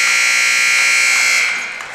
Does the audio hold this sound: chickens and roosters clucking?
no